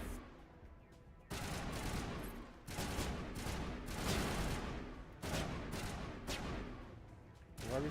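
Sustained bursts of rapid automatic gunfire in a video game, several long volleys separated by short pauses, loud and dense with no speech over them.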